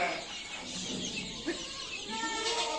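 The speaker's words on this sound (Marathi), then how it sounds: "ही त्याच्यामध्ये सोडलेली एक खडूक कोंबडी आहे आणि ही सतरा दिवसांची छोटी पिल्लं आहेत" Desi country chickens, including a broody hen with seventeen-day-old chicks, cluck softly on a farm, faint and intermittent against a quiet background.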